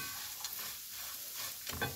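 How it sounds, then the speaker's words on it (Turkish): Bread fries in a pan with a soft continuous sizzle and light scraping as it is moved around, close and fairly quiet, with no talking. "Ekmeği kızartıyorum şöyle."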